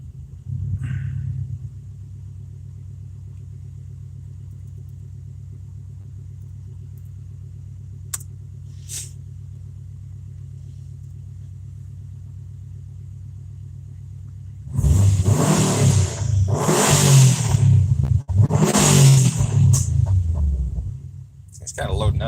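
Car engine held at 2000 RPM rather than idling during an exhaust damper test, a steady low hum that swells into louder, harsher revving surges near the end.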